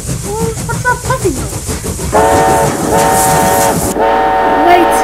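A loud, sustained train whistle blows in long steady tones, following a moment of chattering voices and rumbling train noise.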